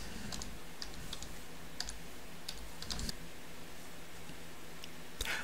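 Keys clicking on a computer keyboard while a username is entered at a TaxSlayer ProWeb login page, sparse irregular taps over a steady low hum with no one talking.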